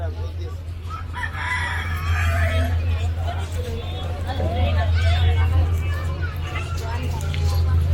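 Live chickens for sale at a busy 24-hour vegetable market in Cebu, with roosters crowing and hens clucking close by under a steady low engine rumble and the babble of people talking.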